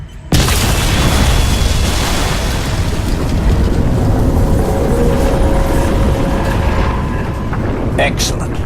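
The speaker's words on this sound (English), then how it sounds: "Explosion imminent." A huge explosion booms in the Crysis 2 video game, a loud sudden blast that rolls into a long, dense rumbling roar and slowly fades over several seconds.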